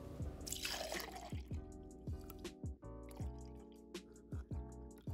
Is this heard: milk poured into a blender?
yes